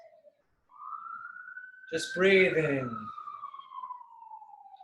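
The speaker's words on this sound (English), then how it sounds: "Should we follow the sirens?" Emergency vehicle sirens wail with a long sliding tone that rises and falls as they pass, while a person speaks over them briefly in the middle.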